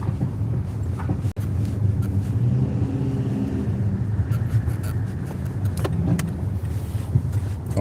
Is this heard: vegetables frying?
no